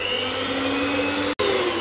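An electric hand whisk beats vanilla sugar and white sugar, a steady loud motor whir with a brief cutout near the end before resuming.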